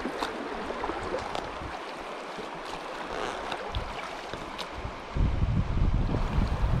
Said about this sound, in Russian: Дальше тоже слышен шум переката.